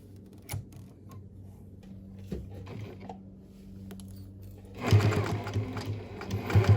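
A sewing machine runs in a burst of stitching through a fabric mask, quiet and intermittent at first, then a loud steady whir toward the end, close by with no talking.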